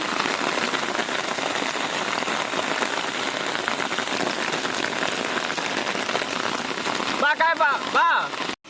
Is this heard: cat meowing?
no